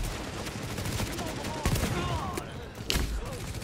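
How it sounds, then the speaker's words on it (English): Bursts of gunfire in The Division, repeated sharp shots and fusillades in a busy firefight, moderately loud and fairly continuous under occasional talk. "I'm just blind firing these suckers"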